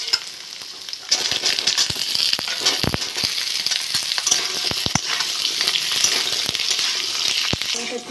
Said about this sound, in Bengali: আমি এবার আলু আর কুমড়োগুলো দিয়ে দেবো।